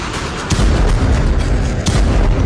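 Explosions from Israeli strikes in Lebanon: loud, close booming blasts with a heavy rumbling low end, two sharp onsets about a second apart followed by sustained roaring debris noise.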